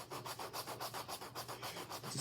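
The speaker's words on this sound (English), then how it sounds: "I have these sanding blocks, and I've just been sanding down the post that goes in" Close, rhythmic rasping as a sanding block is rubbed back and forth over a plastic post on a Digimon model kit, about a dozen even strokes.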